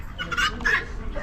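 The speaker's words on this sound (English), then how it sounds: "Bunch of roosters." Roosters at an Amish animal auction give brief honking crows and squawks nearby, mixed with crowd murmur.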